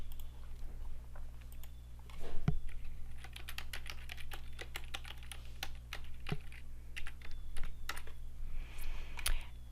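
Login details are typed on a computer keyboard in quick, irregular key clicks over about ten seconds, close up, with a low electrical hum underneath.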